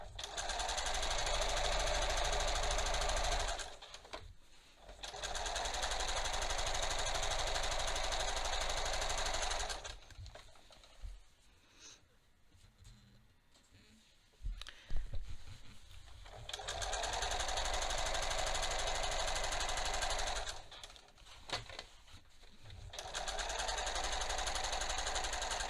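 A sewing machine stitching bias tape onto a waistband facing with a straight stitch, a fast steady whirring hum in long runs with short pauses between, then a longer quiet stretch of faint handling noise before stitching resumes, close and without talking.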